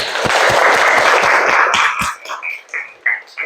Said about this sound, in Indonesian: Beri tepuk tangan untuk Bobby